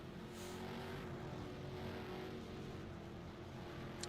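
A race car in a sim racing game circles the Augusta Oval, its engine holding a steady, continuous drone that stays loud throughout without breaks.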